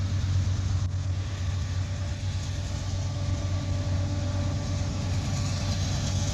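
A train approaches from the Greenwood direction, a low, steady engine drone with faint humming tones beneath, moderately distant and unbroken, with no one talking.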